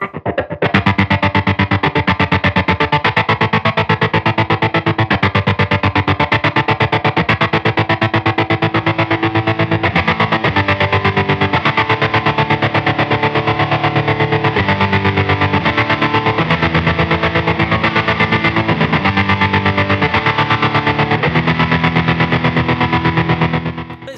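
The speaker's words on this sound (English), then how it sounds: "You kick on some distortion" A distorted electric guitar plays continuously through a Jam Pedals Harmonious Monk V2 tremolo pedal, thick and buzzing with a steady pulsing rhythm, loud and close.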